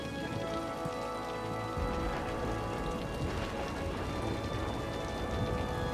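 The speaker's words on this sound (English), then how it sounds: "Let's watch the thunderstorm." Thunderstorm rain in the Cities: Skylines city-building game: a dense, steady hiss of heavy rain pouring down without letup for six seconds, with no voices over it.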